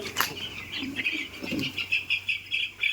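Eleven-day-old poultry chicks on a small farm peep faintly, with thin, repeated high chirps over a soft, steady background hum.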